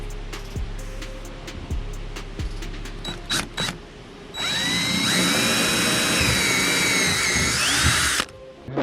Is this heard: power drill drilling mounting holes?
yes